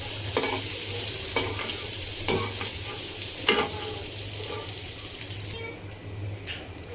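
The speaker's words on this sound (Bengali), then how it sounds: "লাল করে একটু চিংড়ি মাছটা ভেজে নেব" Prawns fry in hot oil with a constant sizzle, broken by several sharp scraping knocks as they are stirred in the pan; no talk.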